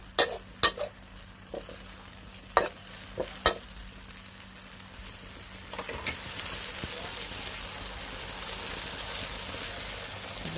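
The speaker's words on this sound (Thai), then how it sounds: "ผัดไปค่ะ วนไปเรื่อยๆค่ะ" Glass noodles stir-fried in a pan sizzle steadily, with several sharp spatula clinks against the pan in the first few seconds, then the frying hiss grows louder and denser, heard close and without talk.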